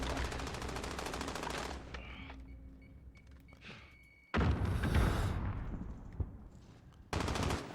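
Rapid automatic gunfire from a Call of Duty match in bursts: a sustained stretch of shooting, a pause with faint mechanical clicks, then renewed loud volleys and a final burst.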